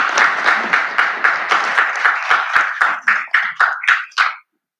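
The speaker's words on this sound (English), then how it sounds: "Let's give her a round of applause." Applause at a transportation committee meeting comes as a loud, brief round of clapping from a small group, pulsing steadily before tapering off and stopping abruptly.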